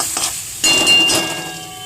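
Chicken frying in a pan for a kosha curry gives a loud, close sizzle while a utensil stirs and scrapes through it, with a brief metallic clink, and the hiss continues steadily.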